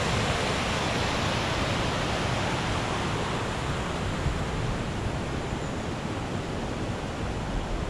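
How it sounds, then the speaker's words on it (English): Water rushing over a small weir on the River Yarrow, a loud, continuous broadband roar of churning flow heard close by with no pauses. "The sound of the water rushing down."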